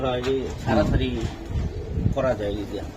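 Silver jubba-moja pigeons coo softly in a few short bursts while someone talks over them nearby.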